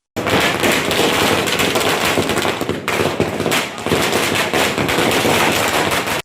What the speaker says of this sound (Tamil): ரசிகர்கள் பட்டாசு வெடித்து மகிழ்ச்சியை வெளிப்படுத்தினர்